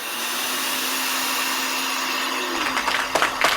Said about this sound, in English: all you need is a hairdryer and a ping pong ball